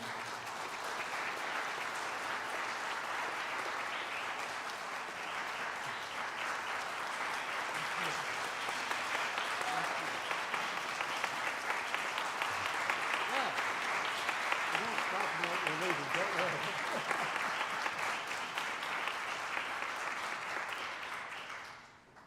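Sustained applause from a church congregation at a Unitarian Universalist worship service, steady and dense for about twenty seconds, with faint voices underneath, tapering off abruptly at the end.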